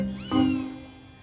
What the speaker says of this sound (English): As you can see, the four kittens are down the end there.